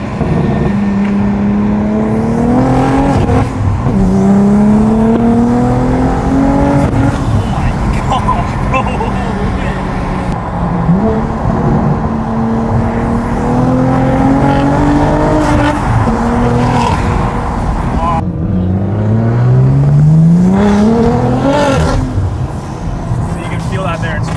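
Car accelerating hard on a road, engine rising in pitch through repeated gear pulls, loud and close from inside, with people talking over the engine throughout.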